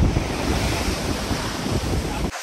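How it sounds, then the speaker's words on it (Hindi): Strong ocean waves at high tide on Manora Beach, Karachi, roar as a dense continuous wash of surf mixed with heavy wind buffeting the microphone, loud and steady before cutting off abruptly at the end. "तो आप देख सकते हैं बहुत तेज़ लहरें आ रही हैं आज"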